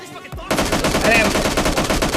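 Close, loud automatic rifle fire in PUBG Mobile Lite, an AKM spraying a rapid continuous burst after a brief lead-in, with the shots running together into a dense rattle.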